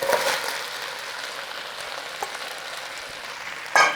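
Leek sizzles steadily in butter in a pan, a soft continuous crackle with a brief louder stir near the end.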